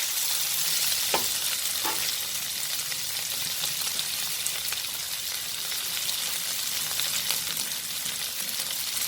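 Medium-cut tomatoes frying in a pan for mealmaker gravy: a continuous close sizzle with a few sharp spoon-against-pan stirring knocks, no voices.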